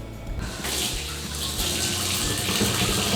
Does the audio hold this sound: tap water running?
yes